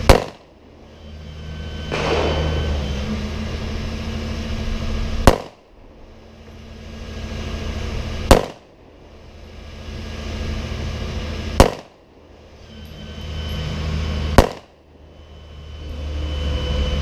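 A Kel Tec PF9 pistol fires Speer Gold Dot rounds: five loud, sharp shots spaced about three seconds apart, each with a short decaying echo, close and alone.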